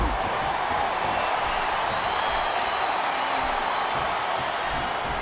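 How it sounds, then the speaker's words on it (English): Arena crowd noise from the WWE SmackDown vs Raw 2007 video game during a tables match, a constant dense roar of cheering and murmuring that holds at steady loudness throughout without clear breaks. "This capacity crowd is making their opinions known tonight."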